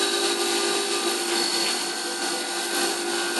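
A CNC machine mills chamfers along the outside edge of an FX-4WD top arm, giving a continuous high-pitched whine with steady tonal ringing and no pauses, close and loud throughout.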